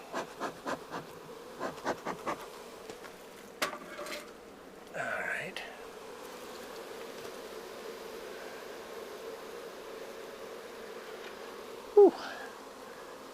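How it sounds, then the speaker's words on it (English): Honey bees hum and buzz faintly around an open hive during a late-season check, a soft continuous drone with a few nearby scrapes and taps of hive parts, and a person exhales once. "Give these girls a little smoke."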